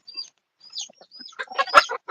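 Native-breed chickens on a farm give sparse, soft chirps and clucks, building into a brief cluster of louder, closer clucking near the end, with no talk.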